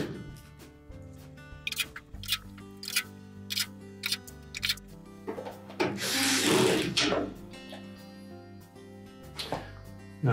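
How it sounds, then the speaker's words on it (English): Screws are being driven into the cover of a Whirlpool dryer, giving close, irregular bursts of scraping, rasping and clicking with short pauses and one longer grinding stretch, and no voices. "we'll put the remaining screws in"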